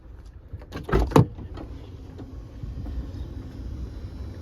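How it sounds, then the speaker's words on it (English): Power sliding doors on a 2022 Chrysler Pacifica Touring-L Hybrid run with a short motorized whir and a couple of quick latching thumps close by, then fade into quiet cabin hum. "Power doors functioning as they should."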